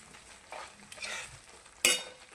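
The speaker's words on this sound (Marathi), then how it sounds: "मसाला फ्राय झालेला आहे" Masala for a restaurant-style kaju paneer curry frying in a pan over low heat, a quiet sizzle with a few soft stirring scrapes and one sharp metallic clink near the end.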